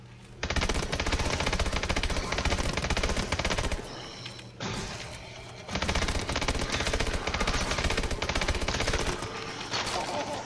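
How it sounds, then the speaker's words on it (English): Rapid automatic gunfire from a video game weapon, loud and sustained in long bursts with a brief pause near the middle, continuing almost without break to the end. "I think it's time for me to upgrade this gun."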